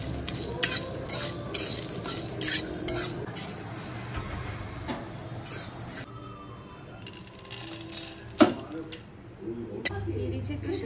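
Whole cumin and dried chilies are stirred and lightly fried in a hot metal wok, with intermittent scraping and clinking of a spatula over a soft sizzle and a few sharper knocks, plus some voice nearby.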